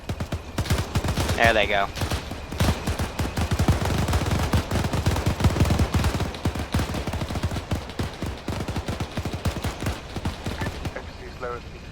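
Dense, rapid bursts of armored personnel carrier gunfire in the World War II game Iron Front sound steady and loud across the whole stretch, with a brief spoken remark partway through.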